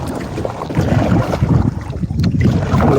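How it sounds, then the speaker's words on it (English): Paddling a boat on a cold, windy lake in early morning: rough, rumbling water and wind buffeting the microphone in uneven surges, close and fairly loud, with no voices. "I'm going to get to paddling"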